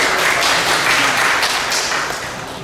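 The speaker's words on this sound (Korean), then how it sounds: "박수 부탁드립니다." An audience at a lecture claps in applause, a dense, loud burst of many hands that continues briefly and then begins to thin out.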